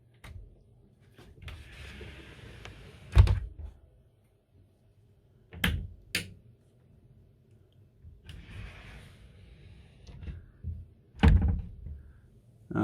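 A bedroom door in a Carthago Chic C-Line I 4.9 LE motorhome swings shut with a couple of sharp thunks and clicks, close by, separated by quiet handling rustles and no talk.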